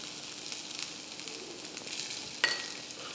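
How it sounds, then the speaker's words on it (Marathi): Finely crushed garlic with mustard seeds frying in oil, a soft steady sizzle with faint crackles and one brief metallic clink, close and fairly quiet, no talking. "तेल, मोहरी, त्यामध्ये बारीक ठेचलेलं लसूण"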